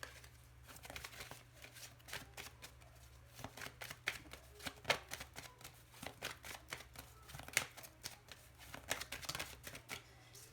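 Lenormand cards are shuffled in quick repeated riffles, a crisp papery flutter that comes and goes in rapid bursts, close by and fairly quiet, with no one speaking.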